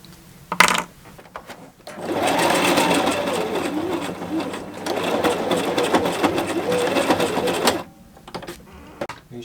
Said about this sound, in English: Then I was back at the sewing machine to install the webbing straps.